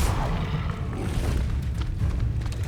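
A Confringo fire spell blast in the video game Hogwarts Legacy gives a loud, booming explosive rumble that fills the whole short stretch without letting up.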